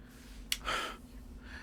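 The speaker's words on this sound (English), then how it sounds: "You hear sort of panicked breathing" Panicked breathing from a man in an audio drama, a sharp gasp followed by a longer ragged breath, close and fairly quiet, with a fainter breath trailing at the end.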